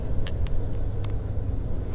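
A 16-speed truck cruising in 14th gear at about 55 km/h, heard from inside as a constant deep engine drone and road rumble with a few faint ticks, loud and close.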